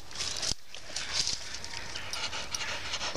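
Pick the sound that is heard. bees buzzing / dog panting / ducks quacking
dog panting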